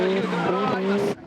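A drift car at the 2010 D1SL All Japan Championship in Nikko slides with a loud, sustained tire squeal over engine roar, heard close for about a second before it cuts off.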